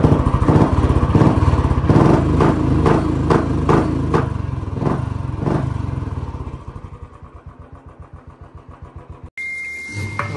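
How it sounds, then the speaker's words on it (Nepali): A motorbike engine runs close by after starting, loud and steady with a pulsing beat, then eases to a lower, quieter idle before a sudden shift near the end. "अहिले चाहिँ बाइक स्टार्ट भइसक्यो है"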